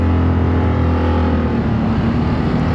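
A Zontes 368G motorcycle with a full remap and Malossi kit runs at a test-ride meetup, its engine droning loud and close with a steady, rough low hum throughout and no talking.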